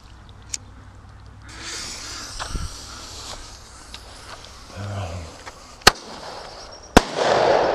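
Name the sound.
aerial grenade firework exploding over lake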